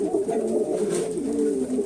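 A pigeon in a Cuban pigeon loft coos in a low, continuous rolling murmur, close and fairly loud, with no voices over it.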